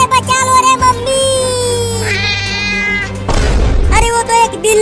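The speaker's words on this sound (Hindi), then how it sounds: "अरे वो तो एक बिल्ली है" A cartoon cat meows in a long drawn-out, wavering cry, loud and close, broken by a short burst of noisy thumping near the end before the meowing resumes.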